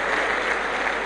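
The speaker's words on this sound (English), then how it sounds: "please clap for him, clap for him" An audience claps for a science student invited up on stage at an entrepreneurship series event, steady dense applause filling the whole moment without voices.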